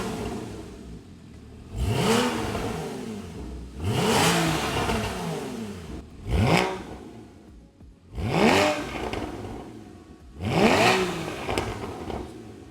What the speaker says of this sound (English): Porsche engineers the exhaust differently, so it has a much more aggressive sound